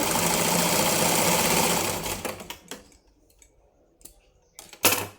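A sewing machine stitches a blouse lining in a steady, close run for about two seconds, then stops and gives a few short bursts of stitching with quiet gaps between them.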